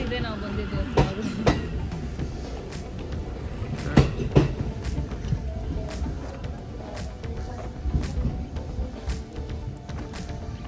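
A train at Mount Fuji station in Japan rumbles nearby with rhythmic wheel clicks and clanks, while voices murmur close by.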